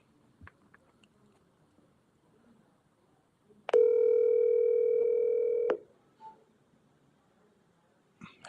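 A steady telephone tone sounds for about two seconds as a phone call is placed, loud and even, surrounded by faint rustles and quiet clicks.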